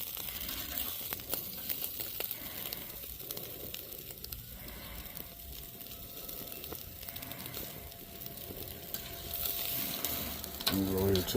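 A ribeye steak sizzles on a very hot ember grill, a steady close crackle and hiss that carries through the whole stretch with small pops, growing a little louder toward the end.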